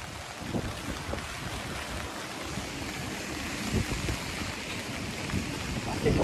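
Typhoon Kong-rey's wind roars steadily with surging gusts through the streets of Tamsui, New Taipei City, Taiwan, a broad, constant rushing noise heard outdoors beside a large apartment building.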